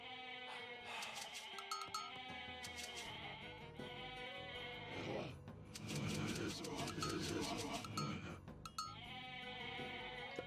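Goats bleat in a strategy video game, their repeated nasal cries coming in bursts over game sounds and music, with a player talking at times.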